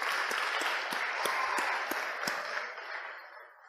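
Applause from the audience at an evening event where a mathematical card-trick performance is about to begin. The clapping is steady and dense, then thins and fades toward the end.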